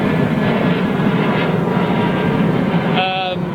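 A Dash 8 turboprop passes at London Heathrow, a loud, steady engine drone close by that eases slightly near the end, where a brief higher tone enters.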